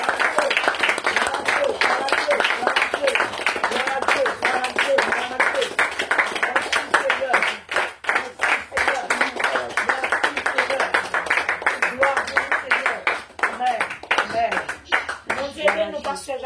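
A church congregation claps in fast, steady unison to praise the Lord. The clapping runs throughout, with voices singing or calling out over it.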